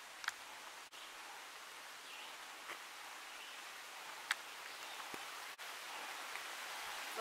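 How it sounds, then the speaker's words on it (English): Rain falls outdoors during a jeep ride in the mountains, a steady soft hiss with a few sharp drop-like clicks scattered through it, with no voices. "Comes that rain."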